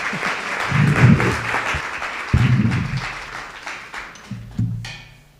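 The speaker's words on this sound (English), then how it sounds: "And the crowd goes wild." Audience at a school board meeting applauding and cheering as elementary students come up to present, clapping under loud whoops and crowd voices that swell and dip in bursts.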